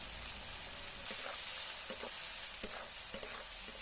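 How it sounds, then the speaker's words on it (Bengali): Onion fries in hot oil with cumin, dry chilli and bay leaf, a steady close sizzle broken by a few short stirring scrapes. "পেঁয়াজ ভাজা হয়ে গেছে"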